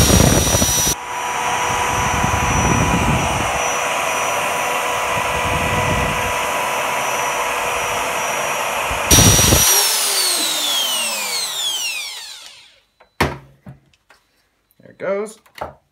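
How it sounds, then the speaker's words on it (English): A power drill whines loudly and steadily for several seconds while drilling out a rivet on a stroller chassis, then winds down as the motor stops, followed by a few sharp metallic clicks. "now we're just going to drill this rivet straight out"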